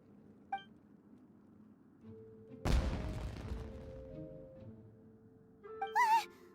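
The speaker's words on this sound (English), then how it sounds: "Was that an explosion? It sounded like fireworks." In an animated fantasy scene, a single sharp burst like a firework explosion cracks out, followed by a fading crackling tail, with faint tonal sounds before and a brief whistle-like squeal near the end.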